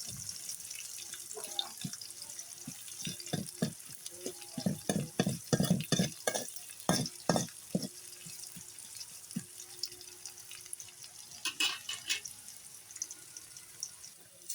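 Onions drop into hot oil in a home kitchen pan and fry with a steady hiss, while loud utensil scrapes and clatters come close together in the first half and then thin out to occasional knocks.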